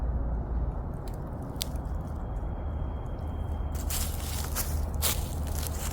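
An old, tattered elephant ear (Colocasia) leaf is cut off, giving close crunchy, squishy snapping and tearing against steady outdoor background noise.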